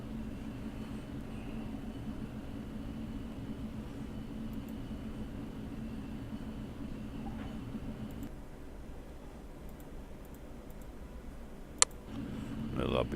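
Airplane engines drone steadily from inside a small plane, a loud, unbroken low hum that persists throughout, with a brief sharp click near the end.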